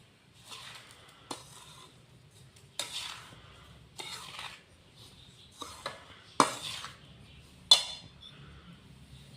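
A spoon stirs powdered sugar into a dry rava laddu mixture in a bowl or pan, giving soft scraping strokes broken by several sharp clinks of metal against the vessel, close by and with no talk.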